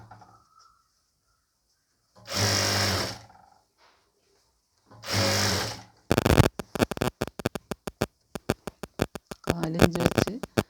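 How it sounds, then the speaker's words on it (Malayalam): A sewing machine stitches the hem of a nighty in a fast run of sharp, rapid clicks near the end. Two louder bursts of another sound come earlier, with near-silence between them. "നൈറ്റിയുടെ അടിഭാഗം നമ്മൾ സ്റ്റിച്ച് ചെയ്ത് കൊടുക്കുകയാണ് കേട്ടോ"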